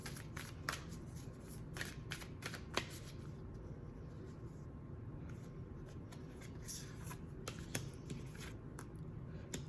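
Star Temple Oracle cards shuffled by hand, a quiet close run of soft riffling slaps and sliding card noises without speech.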